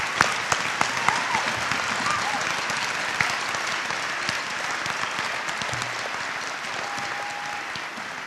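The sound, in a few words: audience applause for veterans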